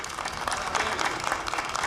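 Applause breaks out in a session of Brazil's National Congress during the INSS inquiry (CPMI), a brief, fairly soft burst of steady clapping from a group, heard at some distance.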